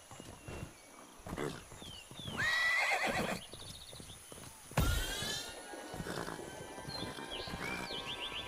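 Horses whinny several times amid clip-clopping hooves and a sharp thud, with steady background ambience throughout, in the video game Minecraft Legends.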